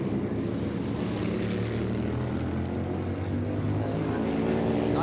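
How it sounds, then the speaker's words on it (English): Kawasaki 750 four-stroke twin-cylinder motorcycle racing in the 1984 Gracefield street race, a continuous loud engine drone with rising pitch toward the end, along with other bikes. "Keith Lovett on the Kawasaki 750"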